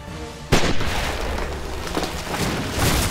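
Gunfire in Spider-Man: Shattered Dimensions, a sharp loud blast followed by repeated booming shots and rumbling impacts in quick succession, with a further burst near the end.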